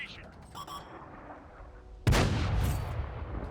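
A tank cannon in World of Tanks fires a single loud booming shot halfway through, with a sharp crack and a rumbling tail that lingers to the end over quieter game ambience.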